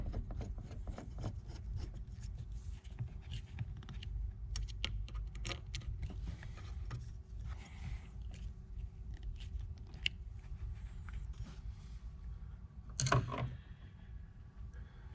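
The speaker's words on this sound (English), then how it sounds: "Take a screwdriver, go and tighten those up." A screwdriver turns and tightens hose fittings on an oil separator bracket in the engine bay of a 2013-2019 Ford Explorer Sport 3.5L EcoBoost, making faint, close scraping and rubbing sounds with a brief louder scrape near the end.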